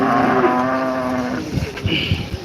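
A cow or bullock at a busy cattle market gives one loud, close, drawn-out moo lasting over a second, followed by brief knocks and scuffling sounds.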